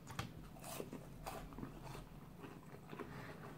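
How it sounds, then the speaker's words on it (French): Crunchy bites and chewing of a burger and fries from a snack shop, close to the mouth: soft repeated crackling crunches at an irregular rhythm, quiet, without talk. "Limite, ça croustille dans ma gueule."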